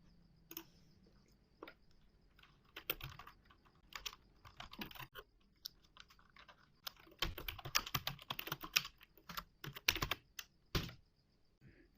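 Fingers type ES6 JavaScript on a computer keyboard, close and crisp, starting with scattered keystrokes and building into dense, rapid bursts of clattering keys, with no voices.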